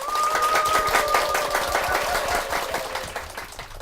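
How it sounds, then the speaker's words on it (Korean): Church audience in a hall applauding to welcome the children on stage, a steady roar of many hands clapping together that gradually thins and fades, with a faint sustained tone in the first half. "여러분 힘찬 박수로 맞아주시죠."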